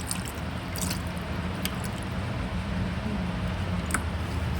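Water poured over waterproof makeup on skin, dripping and trickling in a steady soft wash with a few brief splashy drips, close and fairly quiet, no voices.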